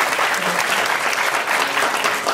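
Warm, steady applause from a large audience at a festival final gala, a dense continuous clatter of many hands filling the whole moment.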